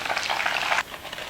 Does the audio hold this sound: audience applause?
no